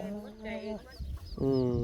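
Chickens on a rural farm clucking nearby in a couple of short, close bursts separated by a brief pause, fairly quiet overall with rustling in between.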